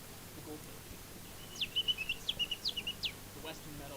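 A person mimics a goldfinch call with a quick run of high, twittering chirps packed into about a second and a half, close and distinct over a faint background.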